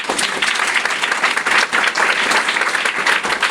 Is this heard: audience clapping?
yes